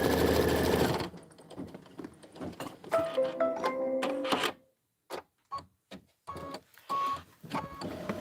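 A cordless sewing machine runs a quilting stitch in a brief burst, followed by a string of mechanical whirs, clicks and short stitching pulses separated by gaps of near silence.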